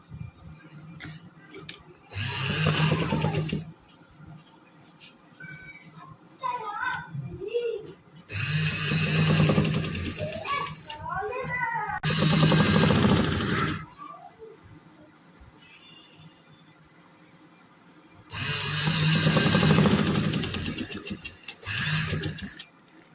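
A sewing machine runs over printed linen suit fabric in several loud, whirring bursts of a few seconds each, with quieter pauses and a little talk in between.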